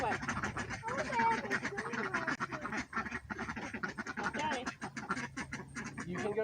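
Ducks on a homestead quacking in a dense, continuous chorus of many birds, close and loud, with a person talking over them.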